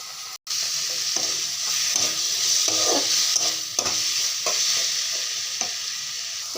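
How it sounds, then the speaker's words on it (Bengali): Tomatoes with cumin, coriander powder and a little sugar fry in a pan, giving a steady sizzle throughout while a spoon periodically stirs and scrapes through the mixture, close and without talk. "এখন ভালো করে নাড়াচাড়া করে অল্প সময় দেখে রেখে দেবো।"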